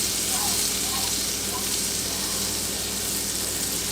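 Steady, crackling sizzle of butter melting in a hot frying pan while cooking rock crab pasta, a continuous hiss with no pauses.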